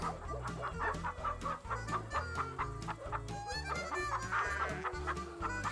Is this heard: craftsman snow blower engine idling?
no